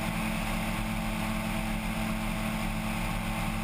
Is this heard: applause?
no